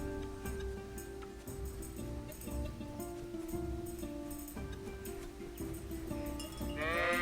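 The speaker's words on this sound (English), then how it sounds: "Hello, sheep." Sheep in the video game Kingdom Come: Deliverance bleat several times over steady in-game background music and ambience, with a livelier burst near the end.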